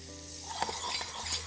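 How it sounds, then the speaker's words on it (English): Butter sizzling with tagliatelle in a pan on very high heat, a steady close crackle with light stirring scrapes and a soft clink or two, no voices. "my element's on very high, and we just keep adding our next knob of butter"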